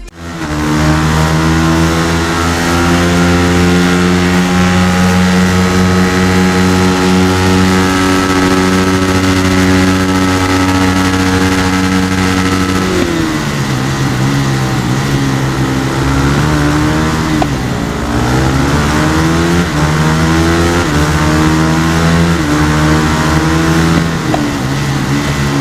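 A Kawasaki supermoto motorcycle engine in the racing game RIDE revs loudly and steadily, holding a high pitch, then dips and climbs again through several throttle swells, with no talk over it.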